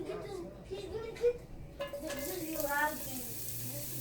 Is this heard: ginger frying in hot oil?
yes